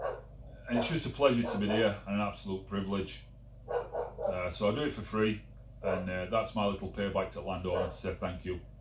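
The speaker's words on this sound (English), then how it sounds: "that's my dog barking." A dog barks in the background while someone talks steadily over it, the yips and barks faint and partly buried beneath his continuous speech.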